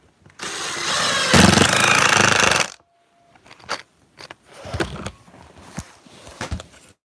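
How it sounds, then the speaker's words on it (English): An impact driver drives screws into a door board loudly for about two seconds, then stops; scattered clunks and rattles of handling follow. "an impact drill just goes like butter"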